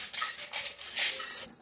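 Dried red chillies are pounded in a stone mortar in a village kitchen, giving a quick run of sharp, gritty strikes close by, fairly faint and with no talk.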